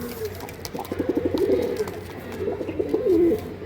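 A pair of domestic pigeons coo repeatedly at close range, the soft throaty rolling calls running on steadily over a low background hum.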